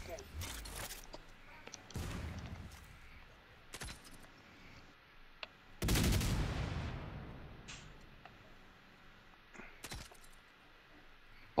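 Gunfire from an AK rifle in an online shooter video game comes in a few sharp bursts, one louder near volley standing out, with players talking over the action.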